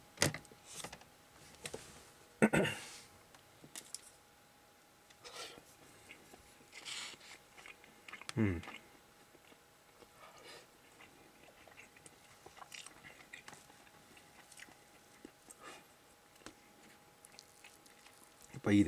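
Quiet close-up eating of a Lawson grilled salmon makunouchi bento, with a few soft bites and scattered chewing sounds among long near-silent gaps.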